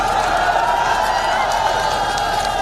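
A crowd at a Jaipur political rally applauding for the media, steady dense clapping with a broad murmur, sustained and fairly loud for a couple of seconds.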